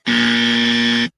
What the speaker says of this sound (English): can we give this guy the dummy buzzer?